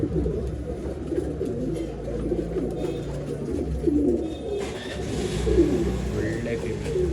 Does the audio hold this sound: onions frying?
no